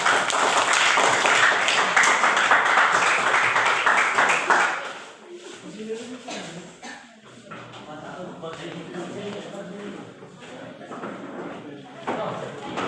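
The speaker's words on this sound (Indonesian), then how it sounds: "Oke, tepuk tangan buat mereka." A classroom full of students claps loudly for several seconds, then the applause dies away into quieter shuffling and murmured voices.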